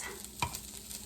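Chopped vegetables drop into a bowl of egg and feta cheese mixture for a quiche, giving one short, soft wet thud and slosh in a quiet room, with no voices.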